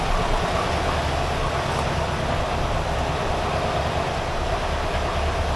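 A 1982 air-cooled VW Vanagon Westfalia engine idling after a tune-up, a steady loud broadband rumble and whir close by, unchanging throughout with no voices.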